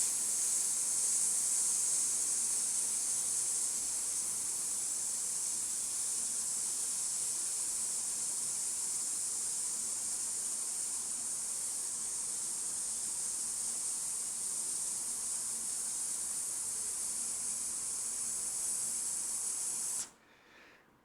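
A long, steady breath hiss pushed out through the mouth to imitate a pressure cooker, held evenly for about twenty seconds before cutting off sharply, with no speech.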